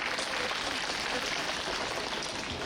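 An audience at a lecture and discussion event at the Seoul International Book Fair applauds to welcome a writer, a steady, even patter of many hands clapping at a moderate distance without pause.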